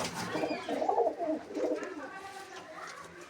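Pigeons, including a Teddy hen, coo softly at a home loft in a short run of low throaty calls, close and moderately quiet, with faint background noise.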